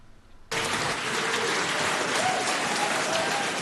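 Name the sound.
applause in New Zealand Parliament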